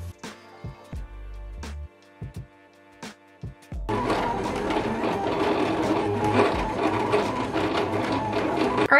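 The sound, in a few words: vinyl cutting machine cutting heat transfer vinyl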